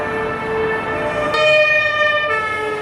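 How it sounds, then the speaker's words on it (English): A fire truck siren wails loudly along a city street in Stockholm, its steady rising and falling tone continuing throughout over low traffic rumble. "the fire truck with the siren"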